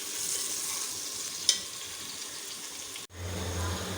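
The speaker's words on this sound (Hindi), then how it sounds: "अब इसके बीच में मैं प्याज ऐड कर दूँगी और इसे हम ब्राउन कर लेंगे" Onions sizzle and crackle in hot oil with whole spices in a pot while being stirred, for a haleem; a steady close frying hiss with a sharp clink midway, then a drop and lower bubbling.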